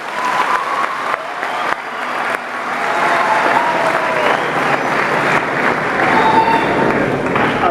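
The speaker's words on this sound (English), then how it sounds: "let's hear another clap for EcoCash" An audience at a University of Zimbabwe launch event applauds for EcoCash, with steady, full clapping that builds and holds throughout, a little crowd noise mixed in.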